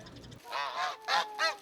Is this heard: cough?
no